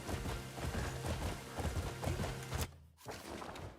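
A horse gallops in the video game Crimson Desert, its hooves pounding in a fast, steady clatter close by. The sound stays dense and continuous, then drops out briefly near the end before resuming.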